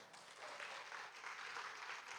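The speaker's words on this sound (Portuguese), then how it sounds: "Eu quero convidar você para louvar a Jesus com uma salva de palmas" A church congregation claps hands together in praise to Jesus, a faint, even rattle of many hands heard from some distance for a couple of seconds.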